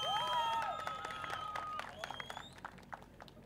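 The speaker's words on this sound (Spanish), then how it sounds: "Rancho San Miguel, el aplauso." Scattered applause rises from a rodeo crowd at a bull-riding jaripeo in Florida, faint and uneven, with an announcer's voice and whistles ringing over it early on.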